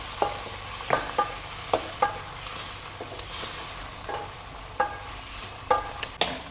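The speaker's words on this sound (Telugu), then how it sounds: "ఇప్పుడు టమోటా, కొంచెం వేగల్ల" Tomatoes frying in a pan, a soft steady sizzle broken by repeated scraping stirs of a spoon against the pan at irregular intervals, close and moderately quiet.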